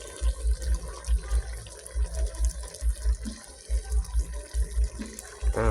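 A pot of curry with kaffir lime leaves boils hard, with loud, close bubbling that surges in steady rhythmic pulses and no voices.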